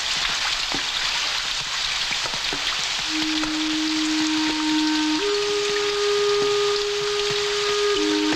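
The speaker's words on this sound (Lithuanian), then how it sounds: "Jeigu į langą jau lietus beldžia" Steady rain patters on a surface on a 1970s Lithuanian collective farm, a dense even hiss with occasional drips, joined midway by a sustained droning tone.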